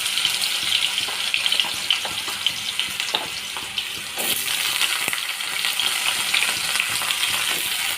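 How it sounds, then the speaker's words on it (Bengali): Potatoes sizzle and spit steadily in a hot pan of oil while cooking a home-style vegetarian pumpkin curry, a dense close frying hiss with occasional stirring clatter throughout. "এর মধ্যে আমি আলুগুলো ফেলে দিচ্ছি।"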